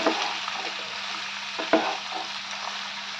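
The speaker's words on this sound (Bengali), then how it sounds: "এবার এই কেটে রাখা লাউটা দিয়ে দিচ্ছি একটু মিক্স করে দিচ্ছি নেড়ে চেড়ে" Chopped bottle gourd being stirred as it fries in a pan for lau shukto, giving a continuous close sizzle broken by a few distinct spatula scrapes, the sharpest one near the middle. No one speaks.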